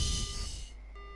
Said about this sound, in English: The line goes dead.